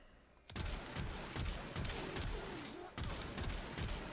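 Weapon fire in the video game Warframe, aimed at heavily armored, high-level enemies. It is a dense, steady burst of rapid shots that starts abruptly and rolls on with rhythmic pulses and a brief break near the end.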